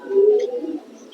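A single close breeder pigeon gives a short, low, throaty coo lasting about a second, alone and fairly loud.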